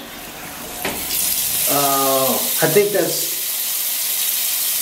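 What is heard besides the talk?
bidet spraying water in a hotel bathroom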